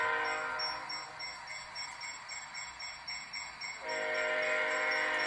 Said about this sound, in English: Can't hear with the train honking its horn.